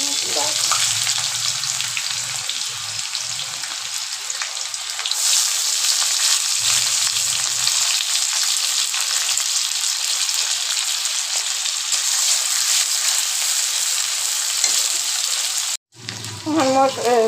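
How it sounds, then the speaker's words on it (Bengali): Chopped onions hitting oil tempered with cinnamon, bay leaf and dried red chilli for a desi-style chicken gravy, giving a loud, steady close sizzle that runs unbroken for the whole stretch with a brief dip near the end. "ফোড়ন হয়ে গেছে, এবার দিয়ে দিব কুচানো পেঁয়াজ।"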